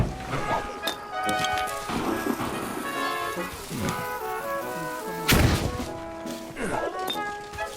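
Grenades thrown and exploding in the video game Corações Valentes, with a sharp blast near 5 seconds among lighter thuds and whacks, all over steady tonal game music.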